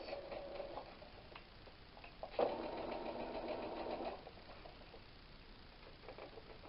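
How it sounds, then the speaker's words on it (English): A sewing machine stitches a 5/8 inch seam on a 1940s-style apron, a steady motor whir running for about two seconds in the middle, close and clear, with quiet room tone before and after. "just sew 5/8 inch seam down to the large dots."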